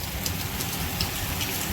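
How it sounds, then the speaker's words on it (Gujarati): Heavy monsoon rain in Porbandar, India, pours steadily, a dense, unbroken hiss of water hitting surfaces with no voices. "સારો એવો વરસાદ આવે છે"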